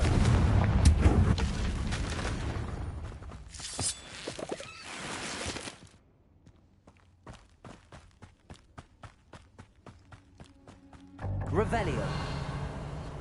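Confringo blasting spell explosions in the Hogwarts Legacy video game: loud, dense, booming bursts crowd the first six seconds, then a quieter stretch of regular footstep-like thuds before another loud rush of battle noise.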